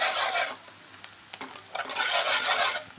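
Eggs stir-fried on high flame for Telangana street-style egg fried rice: continuous sizzling with scraping spatula strokes against the pan, loud and close, swelling in waves with no talk.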